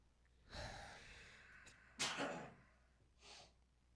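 A single sharp sneeze bursts out nearby, followed by a quieter breathy sniff a moment later; no talking.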